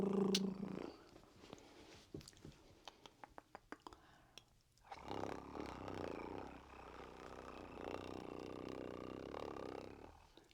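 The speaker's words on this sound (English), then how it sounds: "That was like an industrial strength purr." A cat purrs loudly and steadily up close, a deep continuous rumbling drone that swells after a few soft clicks and rustles at the start.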